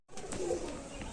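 A pigeon kept for sale gives a soft, low coo close by, a single short murmuring call rising after a moment of silence, faint and alone.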